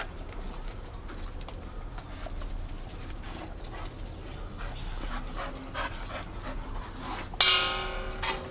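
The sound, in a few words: puppy panting and whimpering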